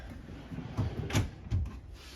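A solid wood pull-out drawer in the kitchen of a 2024 North Point 390CKDS RV slides open, a faint sequence of soft knocks and a short rolling glide in a quiet room.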